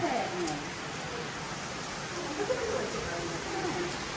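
Steady rain falls through a rural farmland setting in Kerala, a soft broadband hiss with faint scattered drops, continuous and even throughout, while a voice talks faintly underneath.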